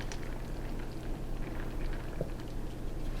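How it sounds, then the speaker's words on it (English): Dehydrated soup mix simmering in boiling water in a pot, a steady close bubbling and gentle patter with a low hum beneath, no voices. "Got my water to a boil. I'm just going to dump my package in there."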